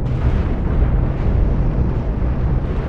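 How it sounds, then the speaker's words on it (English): A ship breaking apart in the space game Cosmoteer gives a loud, continuous rumbling roar of explosions, heavy in the low end and sustained without pause. "It's not shooting, it's just blowing up"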